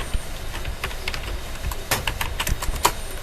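Rapid, uneven clicking of a computer keyboard as random text is typed into Microsoft Word, close and clear, with a few louder keystrokes in bursts.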